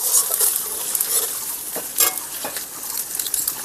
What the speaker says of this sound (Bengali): দিয়ে দেব আদা বাটা। আদাটাকে দিয়ে একটু নাড়িয়ে নেব।